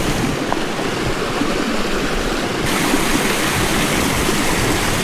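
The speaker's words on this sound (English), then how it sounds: "There's both waterfalls for you." Two waterfalls, one tiny and one large, on a 37-acre off-grid rural property in California make a steady, loud broadband roar of falling water that fills the whole span without a break.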